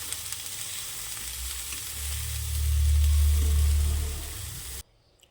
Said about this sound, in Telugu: ఇప్పుడు సన్నగా కట్ చేసి పెట్టుకున్న దొండకాయ ముక్కలు హాఫ్ కేజీ వేసి బాగా కలుపుకోవాలి